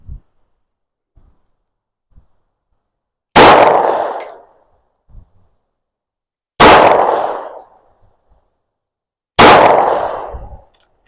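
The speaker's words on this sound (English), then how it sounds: "We're only shooting 5 yards away." Three loud, sharp gunshots from a Taurus 709 Slim subcompact pistol fired at a target 5 yards away, spaced a few seconds apart, each one close and cracking with a short ringing decay, separated by near silence and faint handling clicks.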